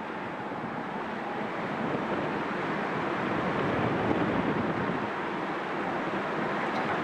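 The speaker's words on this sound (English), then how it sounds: "it's going to be very windy around here" Strong wind buffets the gallery of Bishop Rock Lighthouse in the mid-1990s, a steady loud roar with surf breaking on the rocks far below, with no voices.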